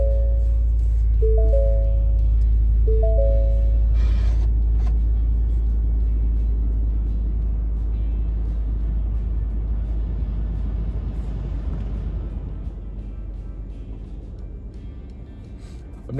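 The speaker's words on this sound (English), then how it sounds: "I'm gonna go ahead and start the truck" Pickup truck engine with a trailer hooked up cranking over with a few short starter whirs before catching, then settling into a steady low idle rumble that slowly fades down in loudness.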